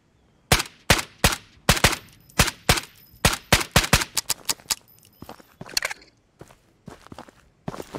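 Sharp shots ring out in the VR shooter Ghosts of Tabor, a burst of loud single cracks in an uneven rhythm, quickening into a rapid cluster before thinning into softer, spaced shots.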